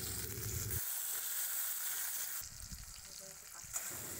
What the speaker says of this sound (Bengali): কুচিয়ে রাখা টমেটো এর মধ্যে দিয়ে নাড়াচাড়া করে ভালো করে মিশিয়ে দেব